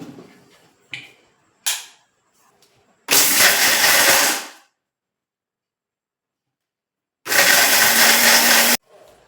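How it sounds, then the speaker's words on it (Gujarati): A kitchen mixer grinder grinds rock sugar and black pepper in two loud, roughly one-and-a-half-second whirring bursts separated by silence, with a few brief clicks and knocks from the jar at the start. "તો હવે આને આપણે મિક્સરમાં પીસી લેશું."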